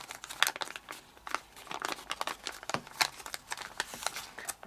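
Sheets of paper folded and creased for an origami panther face, crisp crinkling and rustling in quick irregular bursts, close by and with no talk.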